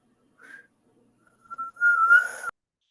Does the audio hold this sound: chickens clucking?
no